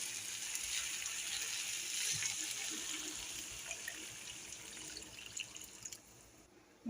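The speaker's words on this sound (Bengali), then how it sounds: "এবারে আমি জল দেব" Water pours into a cooking pan of ghugni on the stove, a soft steady trickle and faint splashing against a low background hiss, fairly quiet and unbroken.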